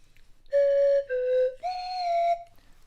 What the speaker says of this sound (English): I can play the slide whistle for you.